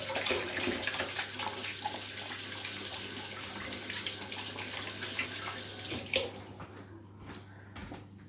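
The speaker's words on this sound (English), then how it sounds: "Wash my hands." Tap water runs steadily into a kitchen sink during handwashing before baking, a continuous hiss at moderate level that cuts off near the end, leaving only faint drips and room noise.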